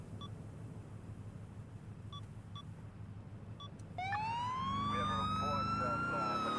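A police car siren in Grand Theft Auto IV switches on midway, a loud rising wail over steady engine and road hum, after a few short beeps in the first half.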